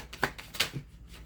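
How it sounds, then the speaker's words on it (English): Tarot cards are shuffled by hand in a quiet room, giving two quick, crisp riffling bursts close to the microphone with a soft tap after them. "One more shuffle."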